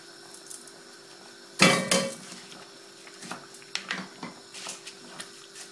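Utensils clatter and scrape against a saucepan as rice pilau (pilaou) is stirred, with a loud clanking burst followed by scattered lighter knocks and scrapes, close by and with no talking.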